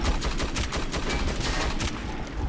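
Machine-gun fire from the Metro 2033 video game, a loud, fast string of repeated shots spraying steadily close by for a couple of seconds with no talk.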